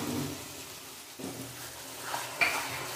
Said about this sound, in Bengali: এখন দেবো ছোটো ছোটো 2টো টমেটো পেস্ট করে